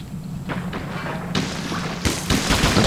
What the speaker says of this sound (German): Die schießen auf uns.